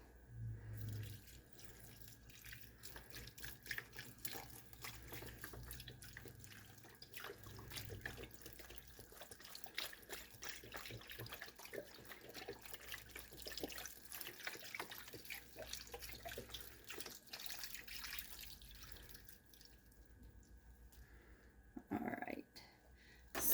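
Chicken broth from a 32-ounce container poured into a crockpot for chicken soup, a steady liquid splashing stream lasting about twenty seconds at moderate level, then tapering off to near silence.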